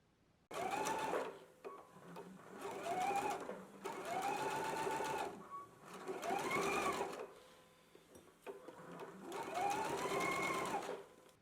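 A domestic sewing machine back stitches a collar in five steady bursts of whirring stitches, each a couple of seconds long with short pauses between, close and clear.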